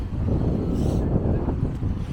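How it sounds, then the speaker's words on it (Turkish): Wind gusting steadily along the Caddebostan seaside promenade, a continuous low rumble buffeting the microphone with no break. "Biraz rüzgar çok esmeye başladı."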